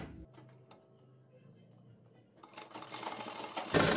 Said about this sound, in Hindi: यहाँ पर एक सिलाई लगा दें कच्ची सिलाई